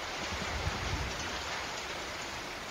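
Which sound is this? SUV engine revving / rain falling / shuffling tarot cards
rain falling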